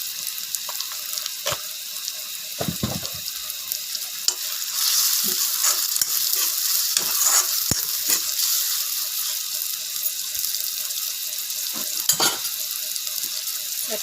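Tomato pieces, salted, sizzle steadily in a hot pan for a pumpkin and potato sorsori dish, with occasional sharper scrapes and clacks of stirring over the constant frying hiss.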